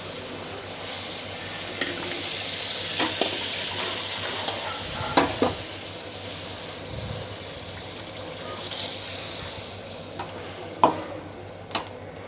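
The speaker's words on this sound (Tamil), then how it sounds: "இந்த ரசத்தையும் நீங்கள் கரைச்சி வச்சுருக்க ரசம் தனியாக அதிலே ஊற்றிடுங்க" Diluted rasam poured into a pan over lightly sautéed ingredients and brought just to a boil: a steady low sizzle with stirring scrapes and a few sharp utensil clicks, close up, no voices.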